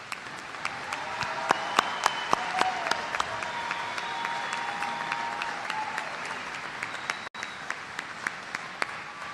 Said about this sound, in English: offering a round of applause